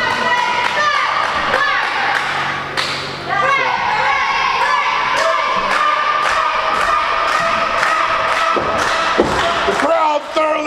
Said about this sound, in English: The crowd thoroughly behind Wyatt